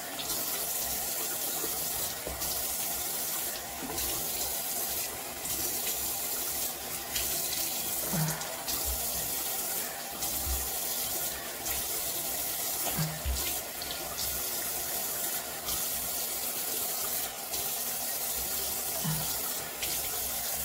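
Tap water runs steadily into a sink for the whole stretch as someone rinses their face, a continuous splashing flow with occasional louder splashes and no talking.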